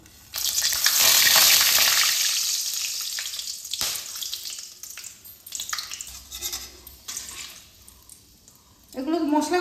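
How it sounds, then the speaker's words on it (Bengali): Whole spices (bay leaves, a dry red chili, cardamom pods, cinnamon sticks and cloves) hit hot oil with a loud, close sizzling burst that slowly settles into a softer crackle with stirring, and a voice comes in near the end. "তেল গরম হয়ে গেছে, ফোড়নে দিচ্ছি 2টো তেজপাতা, একটা শুকনো লঙ্কা, 3টে এলাচ, 2টো দারচিনি আর"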